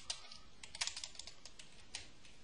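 Rapid clicking of keys on a computer keyboard, a steady run of crisp, close taps with a few louder strokes, heard alone at low volume.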